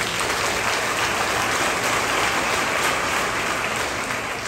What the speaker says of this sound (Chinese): 大家有人掌声鼓励就好